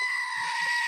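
One sustained, reedy goat bleat holds for just under a second, with faint low murmurs beneath it and no clear speech.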